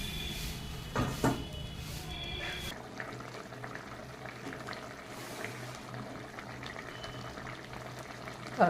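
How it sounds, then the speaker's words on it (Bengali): Fish and potato curry comes to a boil in a pot, bubbling steadily and quietly throughout, with a few soft knocks near the start. "তরকারিটা আমার ফুটে উঠেছে।"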